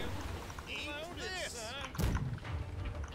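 Ship cannons fire a broadside in the naval video game Blackwake, heard as a single heavy, deep boom about two seconds in, over steady sea noise and under loud, continuous talking.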